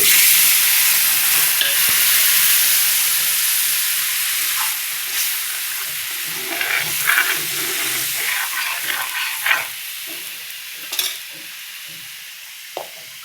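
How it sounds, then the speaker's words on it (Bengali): Water is poured into a hot pan while a katla fish omelette cooks, starting as a loud, steady hiss that fades into softer bubbling with scattered clinks and scrapes, close and alone. "এবার জল দিয়ে দিচ্ছি"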